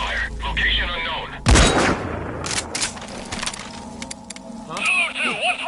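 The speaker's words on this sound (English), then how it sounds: "We've got unidentified gunfire." In the video game Metal Gear, a sudden loud burst of gunfire cracks out, followed by scattered sharp shots over a rumbling background, with voices speaking before and after.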